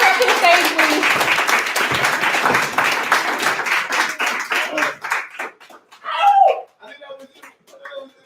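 Audience applause and clapping at a poetry open-mic night in a bar as a poet named Poetic Mama walks up to the stage, dense and lively at first, then thinning into scattered claps with cheers and voices.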